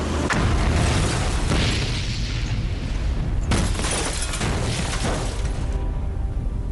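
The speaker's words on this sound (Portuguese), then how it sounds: "Às 7h45, uma enorme explosão destruiu todo o prédio" A reenacted coal-fired boiler explosion, a sustained roaring blast with crackling debris and rumbling bursts that swell again midway, loud and close with no talk.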